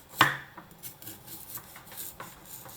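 Quiet kitchen work with a knife tapping lightly on a cutting board, chopping food into small pieces, a sharper click at the start and soft irregular chops after.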